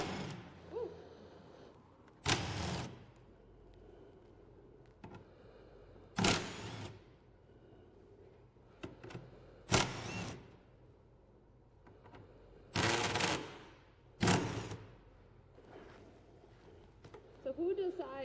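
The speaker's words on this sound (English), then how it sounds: "we're going to have Tracy take the impact and slowly remove the bolts" An impact wrench removes bolts from an electric vehicle's battery cover: several short, loud, buzzing bursts with quiet pauses between them, while people talk nearby.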